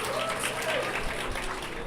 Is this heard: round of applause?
yes